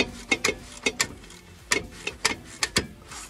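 A Scania truck brake caliper mechanism winds back with a series of sharp ratcheting clicks in irregular bursts, close and fairly clear against a quiet background.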